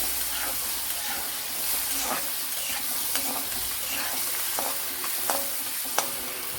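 Chopped onion frying in a pan with garlic and ginger, a steady close sizzle and hiss broken by occasional stirring clinks and scrapes, with no voice.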